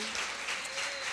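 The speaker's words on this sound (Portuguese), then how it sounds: "Vamos aplaudir Jesus bem forte" A church congregation at a women's service applauding, a brief burst of dense, steady clapping filling the room.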